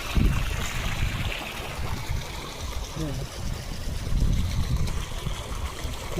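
Water from a well pump pours steadily onto a farm field in a dry, low-rainfall village, a continuous rushing, trickling wash close by, with a voice talking over it.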